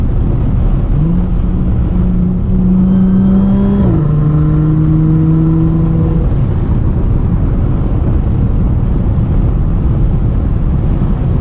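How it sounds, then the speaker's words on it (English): A stage 2 Audi S4 with 430 hp and all-wheel drive revs on a paddle-shift downshift, the engine drone rising in pitch then dropping sharply as the gear changes, steady and close under constant road and cabin noise. "Hit like a downshift right here."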